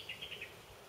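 A bird calls from a perch on the corner of a building some distance off, four short chirps in quick succession over a steady breeze outdoors.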